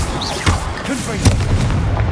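The Confringo blasting spell explodes in Hogwarts Legacy as a couple of deep booms within a dense, noisy game soundscape, with a voice present.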